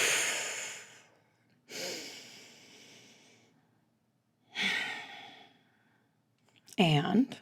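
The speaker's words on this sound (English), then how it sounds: "We're going to take a deep breath." Three slow, deep breaths, each a long airy exhale fading out over about a second and separated by quiet pauses, followed by a short vocal sound at the close.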